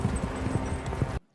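A horse gallops hard in a Game of Thrones battle scene beyond the Wall, a loud, steady drumming of hooves with dense rumbling noise, cutting off abruptly at the end.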